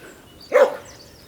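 A single short dog bark, fairly close, in otherwise quiet surroundings.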